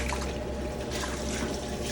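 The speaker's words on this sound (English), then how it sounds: "now you're gonna dump in this water to get that" Water dumped into a commercial fryer during cleaning splashes and drains out through the open valve, a steady close trickle and drip of liquid running continuously with no speech.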